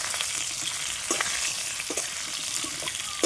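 Raw mango pieces coated in turmeric are stirred in a hot pan, producing a constant close frying hiss punctuated by a few sharp spatula scrapes.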